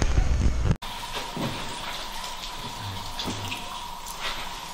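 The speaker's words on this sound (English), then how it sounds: "that sound you hear is actually water dripping from the top of the cave." Water drips from the ceiling of a lava cave in Washington, with faint scattered plinks over a steady watery hiss and cave ambience after a brief louder rustle at the start.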